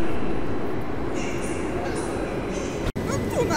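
Train with a locomotive and two wagons bound for Jelenia Góra rumbles steadily nearby, low rolling noise with a brief dropout near the end and faint wheel screech, while people talk over it.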